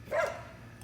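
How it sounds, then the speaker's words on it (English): A pet dog chasing a cat gives one short, sharp bark, moderately close and alone against a quiet background. "I apologize for the barking."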